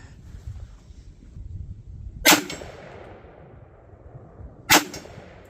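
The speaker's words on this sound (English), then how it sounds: "Let's go for that gong there." Two sharp rifle shots ring out outdoors in snow, each followed by a metallic clang from a steel gong target, spaced about two and a half seconds apart over quiet background.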